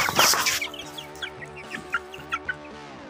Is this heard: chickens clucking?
yes